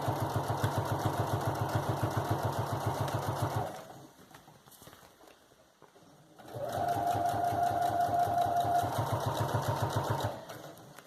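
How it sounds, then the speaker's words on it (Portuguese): A sewing machine with a straight-stitch presser foot sews binding onto plastic for a portable changing pad. It runs in two steady, close bursts with a short pause between them, and no one talks. "Vou costurando, vou tirando o alfinete."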